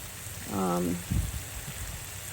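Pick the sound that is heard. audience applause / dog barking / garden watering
garden watering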